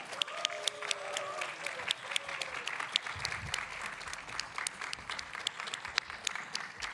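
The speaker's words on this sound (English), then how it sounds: "Let's give them another round of applause before we actually hear all of our winners." Moderate audience applause for student presenters at a university competition finals, a crowd clapping steadily with some sharp individual claps standing out and a few brief voices underneath.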